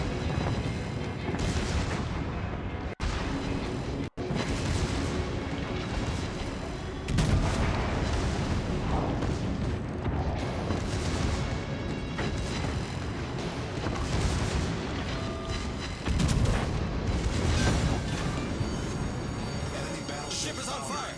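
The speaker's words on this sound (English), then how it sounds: "I love seeing the secondaries go off from both sides." Warship secondary guns blazing from both sides in World of Warships Legends, a dense steady barrage of booming artillery shots and gunfire that continues without pause for about twenty seconds.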